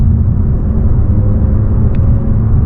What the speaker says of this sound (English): And in sport mode, it takes off beautifully.